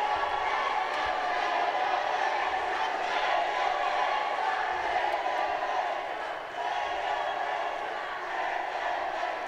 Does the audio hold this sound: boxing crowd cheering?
yes